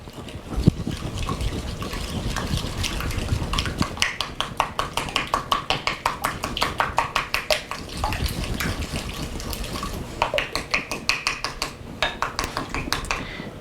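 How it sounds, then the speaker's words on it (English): Soda bread ingredients stirred in a bowl for Irish soda bread, a steady run of quick scraping, clicking strokes that speed into a dense rhythmic patter, with a brief pause midway before the stirring resumes at close range. "And we're going to stir this together."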